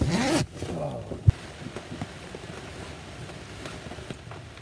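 A zipper on a boat cover is dragged open outdoors, a long scratchy pull under faint wind and light handling noise, with a brief voice at the start.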